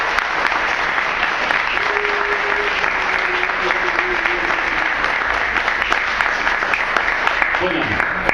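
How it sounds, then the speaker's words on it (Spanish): Steady, dense applause from an audience at a political book presentation, welcoming the Izquierda Socialista candidate Laura, sustained and fairly loud for several seconds with a voice faintly heard beneath. "le damos un fuerte aplauso"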